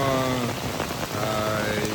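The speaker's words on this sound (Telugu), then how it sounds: "కానీ బ్యాడ్ లక్ ఏంటంటే భయంకరంగా వర్షం పడుతుంది." Heavy rain pours steadily outdoors near a kitchen where chicken 65 is being made, a dense continuous wash of drops drumming on surfaces for the whole stretch, with a faint tonal hum underneath.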